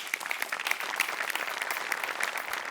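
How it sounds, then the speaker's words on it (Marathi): A studio audience applauding a comedy show's set department, dense continuous clapping at even strength throughout, with no talk over it. "सगळ्यात आधी सेटिंग डिपार्टमेंटसाठी जोरदार टाळ्या"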